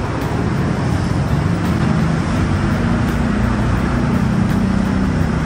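Steady road traffic on the Bridgeway in Manila, Philippines: a dense, continuous rumble of engines and tyres that stays loud and even throughout, with no single vehicle standing out.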